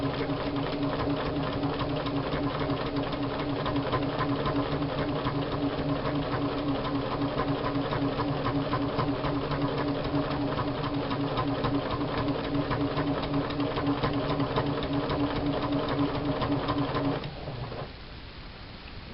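A sewing machine runs steadily, stitching a seam on oven mitts being recovered, with a continuous motor hum and rapid needle clatter for about seventeen seconds before slowing and winding down near the end.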